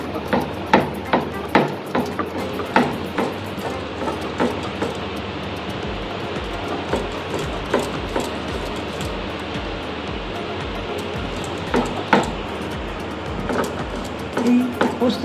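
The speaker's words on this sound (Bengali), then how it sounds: "আমি শিলনোড়ায় পোস্ত আর কাঁচা লঙ্কাটা খুব মিহি করে বেটে নিচ্ছি।" Poppy seeds and green chilli ground on a stone grinding slab, giving a rhythmic series of close grinding thuds and rubbing strokes, with room noise and occasional background voices.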